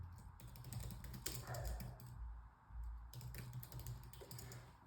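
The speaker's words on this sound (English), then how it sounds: "that's why I was typing" Quiet clicking of keys on a computer keyboard in steady bursts, with a low background hum and no speech.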